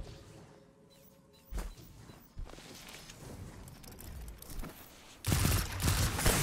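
A Lorenz Driver sniper rifle fires in Destiny 2 amid match action: a couple of sharp cracks early on, then a loud, roaring blast of impact near the end over a busy game soundscape.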